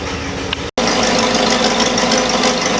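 A 1960 Cadillac engine runs steadily at idle after repair work, a loud, continuous low rumble with a brief dropout near the start, no talking.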